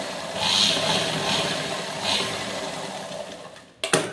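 A sewing machine hums and rattles while stitching a churidar top, moderately loud with a few swells in pace, then stops abruptly with a couple of clicks near the end.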